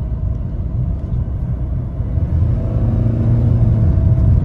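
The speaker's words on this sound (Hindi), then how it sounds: "मैंने हाफ एक्सीलेटर दबाया है लेकिन गाड़ी रैप ज़्यादा कर रही है" A 2019 Hyundai Creta automatic's engine revs under half throttle, a low steady rumble that swells and climbs in drone partway through, heard from inside the cabin without talk.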